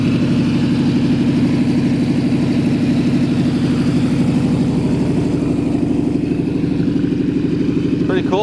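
A 1923 Ford Model T bucket hot rod with a freshly built 383 V8 and automatic transmission idles steadily, a loud, continuous low rumble throughout, close to the listener, with a brief voice near the end.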